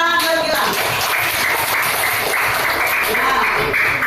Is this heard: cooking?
no